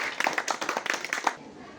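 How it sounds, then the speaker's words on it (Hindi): Schoolchildren give a burst of rhythmic, fairly even claps at a school prize-giving for an art and craft cover-page decorating contest, close and moderately loud, stopping abruptly after about a second and a half. "बच्चों, जोरदार तालियां"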